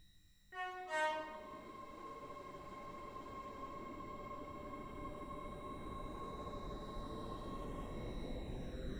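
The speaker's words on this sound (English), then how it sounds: "This train is formed of 5 coaches." A five-coach train pulls through railway station platform 11 at Benton, its horn sounding near the start, then a steady rolling rumble with high whining tones holds close and loud throughout.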